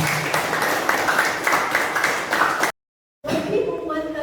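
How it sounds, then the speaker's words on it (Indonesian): Pupils in a classroom applaud a classmate with steady, dense clapping that cuts off abruptly, followed by a brief silence and then voices in the room. "Berikan tepuk tangan untuk temannya."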